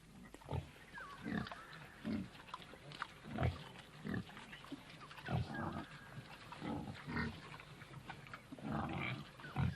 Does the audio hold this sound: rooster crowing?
no